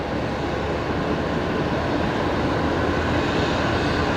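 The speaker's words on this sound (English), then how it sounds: "that's the Life Flight Challenger on the move" A Life Flight Challenger jet taxis at Brisbane Airport at night, its steady broadband engine roar holding constant and fairly near throughout, with no voices over it.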